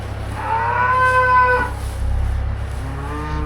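Simmental cows and calves moo inside a barn, one long, loud, drawn-out call followed by lower lowing, with steady barn hum underneath and no talking.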